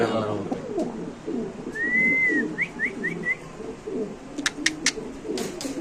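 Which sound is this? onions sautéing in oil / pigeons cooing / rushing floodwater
pigeons cooing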